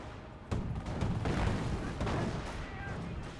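Battle gunfire rattles through a Company of Heroes match as a rifle squad comes under fire, with sharp cracks and booming volleys stacking into a dense, continuous barrage and a sudden loud burst at the start.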